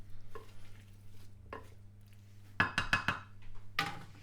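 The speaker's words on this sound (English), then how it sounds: "Just get that little mix just to mix it together a little bit." Chicken biryani ingredients are stirred together in a pan: scattered scraping and clinking strokes, a few soft early taps, then a denser burst of sharp spoon-on-metal clatter, close and fairly quiet over a low hum.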